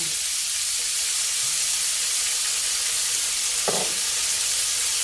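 Long beans and minced pork stir-fry in a hot pan with oyster sauce and soy sauce, a continuous bright sizzle with a brief scrape of stirring near the end, close and steady, no talking.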